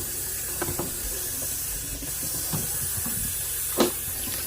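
Halved cherry tomatoes rinsed under running water from a tap, a steady hiss of flow with a few brief splashes and knocks as the pieces are moved about in the stream.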